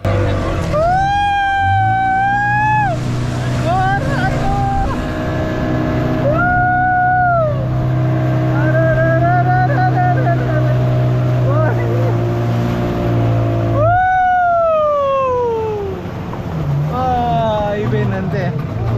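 A speedboat towing a bumper ride off a Goa beach drones steadily and loudly throughout, with voices calling and shouting over the engine.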